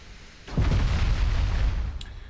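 A loud, rumbling boom from a dreadnought's heavy naval guns striking an armoured enemy ship at close range in a naval strategy game. It bursts in suddenly and then rolls on as a dense, low roar for over a second.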